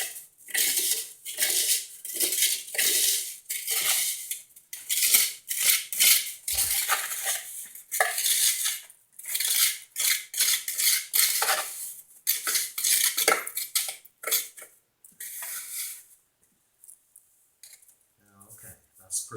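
Utensil scraping and clinking in a container while mixing a casting compound before pouring into an old ingot mold, steady close rhythmic stirring with brief pauses, no talk.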